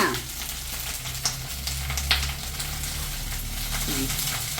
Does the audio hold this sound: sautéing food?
yes